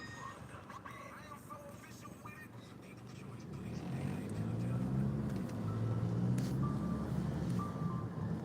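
A Greyhound bus sits at a bus station, its low engine rumble swelling midway and holding steady amid outdoor street noise and a few faint beeps.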